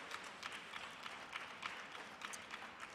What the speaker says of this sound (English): Please keep clapping for her until she gets there